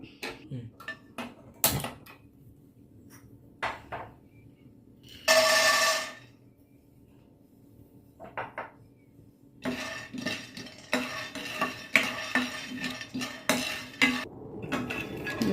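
Peanuts roasting in a metal pan on a stovetop while a Kannada cook prepares millet masala rotti, heard as scattered clinks and scraping of a utensil against the pan, with a dense rattling stretch near the end, and no talk.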